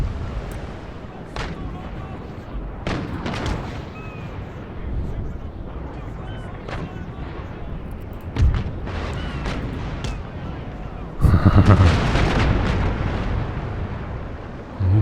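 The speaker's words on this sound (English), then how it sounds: "Is everybody firing at will? Yes, we are." Musket volleys and cannon fire in the Empire Total War strategy game, a scattered series of sharp bangs and booms over a rumbling battle bed, with a louder burst of firing late on while someone talks intermittently.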